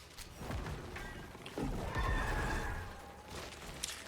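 A horse in the video game Diablo 4 whinnies loudly in a drawn-out neigh, with clip-clop hoofbeats and thuds around it, faint overall and without talking.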